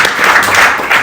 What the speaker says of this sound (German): Ich brauche nochmal einen Applaus an Ingeborg und weitere Übersetzung.